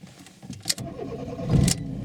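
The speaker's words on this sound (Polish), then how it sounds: "Więc odpalamy srebrną wołgę." Engine of a silver Volga car turning over and catching, a brief cranking burst followed by a steady mid-pitched idle rumble, close by with no talk.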